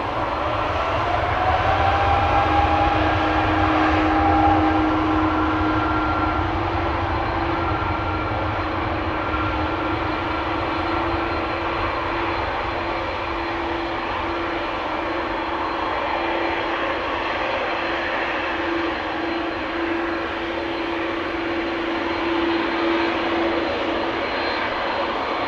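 A KLM Embraer 195-E2 jet taxis at Amsterdam Schiphol with a constant close engine hum and a sustained whine, steady and unbroken throughout with no talk over it.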